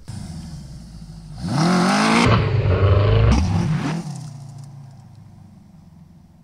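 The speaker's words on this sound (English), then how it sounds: "nice day for a GS850 Scrambler ride in the woods" A Suzuki GS850 Scrambler motorcycle engine revving up during a ride in the woods, rising to a loud sustained roar for a couple of seconds, then easing back to a lower idle, no talking.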